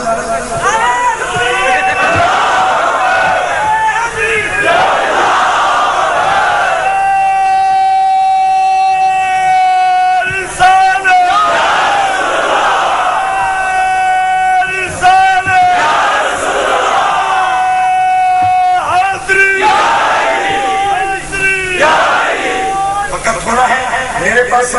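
A large crowd chants religious slogans at a devotional gathering, loud voices rising together in repeated waves every few seconds, sustained and echoing throughout.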